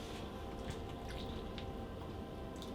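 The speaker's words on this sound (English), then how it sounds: "We then water it." Water poured onto soil around a small tree in a pot, a steady close wash of trickling and soaking with faint drips, continuous and even throughout.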